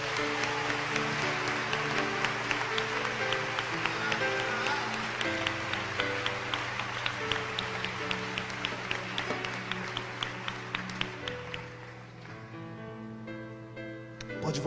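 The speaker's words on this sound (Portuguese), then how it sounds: "eu quero que vocês dêem uma salva de palmas a Jesus" A church congregation applauding for Jesus, scattered rhythmic clapping over sustained organ or keyboard chords, moderate in level and tapering toward the end.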